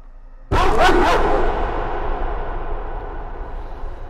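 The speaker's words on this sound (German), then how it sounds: "Ah, jetzt kommt der Hund." A dog in Layers of Fear lets out a sudden loud bark followed by a few quick barks, then a long, reverberant decay that fades slowly.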